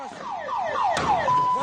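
An ambulance siren wails in rising and falling sweeps during shooting in Chad, loud and fairly near with no talk over it.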